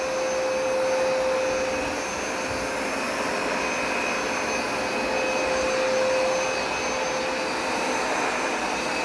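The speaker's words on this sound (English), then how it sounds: "let's line up and make our first pass" A Hoover Smartwash Pet carpet cleaner runs over upstairs carpet with Bissell Deep Clean Plus Oxy solution, a loud steady motor whine with a high tonal hum, continuous throughout and slightly swelling as it moves on a pass.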